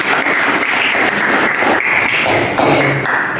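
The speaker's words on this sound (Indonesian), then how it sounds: "Ya, tepuk tangan kita semua." Audience applause at a student facilitator training session, a dense, steady patter of many hands clapping at close range throughout, with no pauses.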